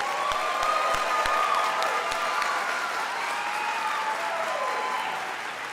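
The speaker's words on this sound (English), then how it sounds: "Another big round of applause." An audience at a college fall pinning ceremony applauds the graduates, a dense, sustained round of clapping with faint cheering mixed in, easing off slightly toward the end.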